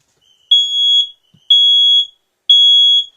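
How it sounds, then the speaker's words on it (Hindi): An alarm keeps sounding inside a derailed train coach after the Balasore train accident: three loud, steady electronic beeps about half a second long, repeating roughly once per second, alone and without voices. "ये अलार्म जो है वो अब भी बज रहा है, यानी ये चेतावनी थी कि कुछ हादसा हो गया है।"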